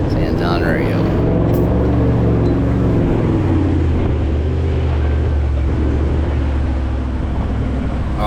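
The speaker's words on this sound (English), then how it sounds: "Oh, listen to that diesel V8 go." Diesel V8 4x4 engine pulling off-road through deep ruts during a vehicle recovery near Tannum, a loud steady low rumble with rising and falling revs, wind buffeting the microphone, with people talking over it.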